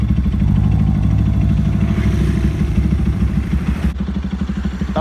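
A motorcycle engine runs loud and close at a car wash, a steady throbbing idle with a slight pulsing rise near the end.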